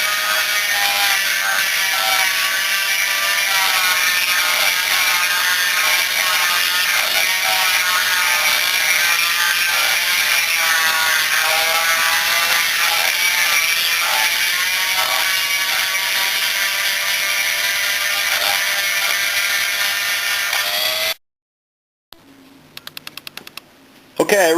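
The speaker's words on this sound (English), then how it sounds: "I ran my bluestone through the cylinder" A bluestone hone run by hand through the exhaust port of a Blaster two-stroke cylinder, giving a steady, loud, continuous scraping grind for about twenty seconds before stopping abruptly, followed by a short burst of faint clicking.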